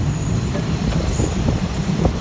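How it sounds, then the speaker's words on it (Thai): Suburban ordinary train 355 rolls into Nong Pla Duk Junction, a loud, close rumble of wheels and carriage noise with faint squeals, heard from on board without voices. "รถไฟขบวนธรรมดาที่ 355 รถไฟชานเมือง กรุงเทพ ชุมทางหนองประดุก"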